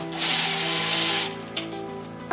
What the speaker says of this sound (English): I'm gonna use an impact to get them off